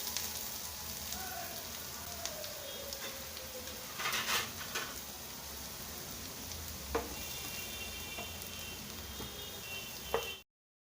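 Onions shallow fry in a pan with a steady soft sizzle, a faint continuous crackle and a few sharper pops and clinks, with no talking.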